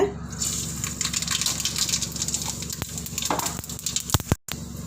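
Mustard seeds hit hot oil in a pan while a Tamil ragi semiya dish is cooked, giving a close, continuous sizzle with scattered popping crackles that fades briefly near the end.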